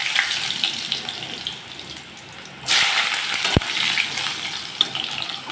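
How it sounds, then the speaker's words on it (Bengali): Cut potato pieces drop into hot oil seasoned with bay leaf and a little sugar, and a quiet hiss jumps into a louder, sustained sizzle, with a sharp clank partway through. "দিয়ে দিচ্ছি টুকরা করা আলু"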